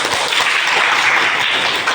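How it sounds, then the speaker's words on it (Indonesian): Applause for Sabrina, a student in a classroom guidance lesson, as a steady wash of clapping from a group of classmates fills the full two seconds at close range. "Oke, kita beri aplaus untuk Sabrina"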